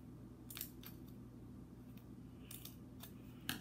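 Scissors cutting paper for paper dolls, several crisp, quiet snips spaced irregularly over a low steady background hum, with no voices.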